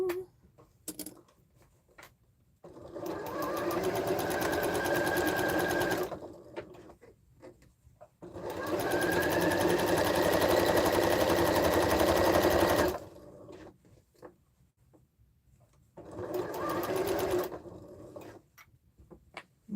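A sewing machine stitches sweater quilt pieces in three sustained runs of a few seconds each, close and clear, with quiet handling clicks in the pauses between them.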